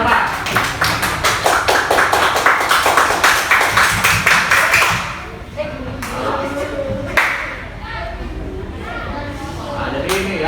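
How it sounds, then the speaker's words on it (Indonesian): Students in a floor gymnastics class clap together in a quick, steady burst for several seconds, then it fades into a teacher talking with a few scattered sounds behind. "tepuk tangan dulu buat Ahmad."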